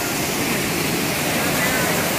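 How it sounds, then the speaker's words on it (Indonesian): The Gerojokan Sewu waterfall roars in a loud, unbroken broadband rush of falling water at a steep site, heard close and filling the whole short stretch. "Ini adalah lokasi air terjun adalah Gerojokan Sewu"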